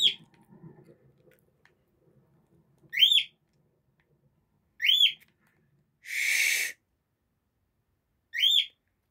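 Pet bird giving four short, clear rising whistled calls spaced a couple of seconds apart, with a brief harsher noisy burst between them; close and fairly loud, no talking, faint rustling at the start.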